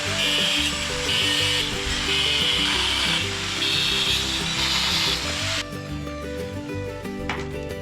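A loud power saw grinds steadily through steel rebar up close, cutting it into sections, then the high-pitched cutting stops and the motor keeps running at a lower pitch.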